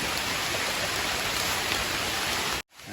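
Steady rain pours during mushroom picking outdoors, a dense even hiss of drops that runs continuously before cutting off abruptly near the end.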